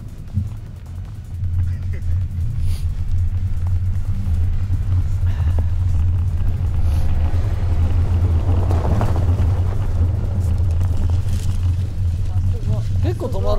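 A car with ordinary summer tires brakes to a stop on a snowy road, giving a steady, loud low rumble of engine and tire noise throughout, with people talking over it.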